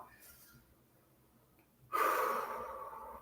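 A deep breath drawn in partway through a guided breathing exercise in a seated workout session, a sudden airy inhale that swells and holds steady after a quiet start.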